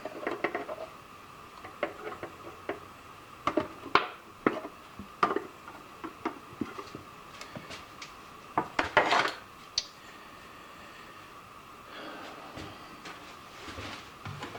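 Metal tools clinking and tapping as a tap follower, threading fluid and a crescent wrench are handled at a workbench, scattered light clanks and rattles with quiet pauses between.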